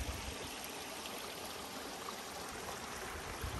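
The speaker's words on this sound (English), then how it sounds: "Here's one of the little streams that drains out to Bogue Chitto River" A small woodland stream draining toward the Bogue Chitto River in Louisiana trickles steadily, a soft broadband wash of running water heard close and alone.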